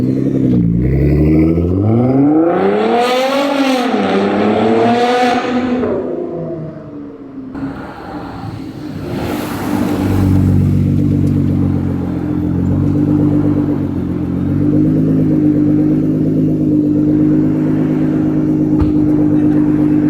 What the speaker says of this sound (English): let's get some underpass clips